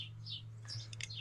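Birds chirp outside a house, faint high tweets coming and going over a steady low hum, with a few quick sharper calls near the end.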